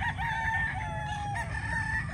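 A full-grown Kasmina white gamefowl stag with a straight comb crows loudly and close, one sustained rising-and-falling call lasting about two seconds with no talk over it.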